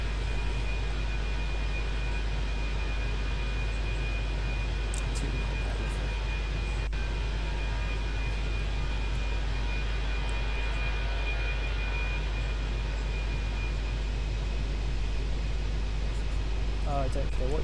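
An Airbus A321 airliner cruises in a flight simulator game, wearing Condor livery on a Dusseldorf to Ibiza flight, with a steady, even engine drone throughout and a few faint clicks.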